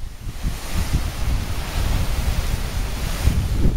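A mountain creek below a waterfall near Manali, India, rushes steadily nearby, a broad continuous water roar mixed with gusty wind buffeting.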